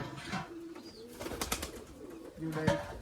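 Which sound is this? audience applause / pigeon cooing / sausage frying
pigeon cooing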